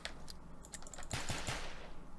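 A Makarov pistol fires in Garry's Mod, a few quick sharp shots in a short burst, close and fairly loud, with no talking.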